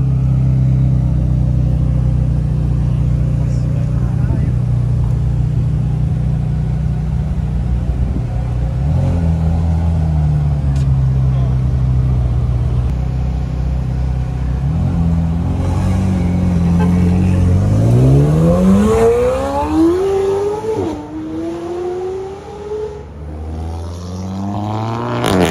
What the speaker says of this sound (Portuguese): Ele vai sair ou vai ficar acelerando?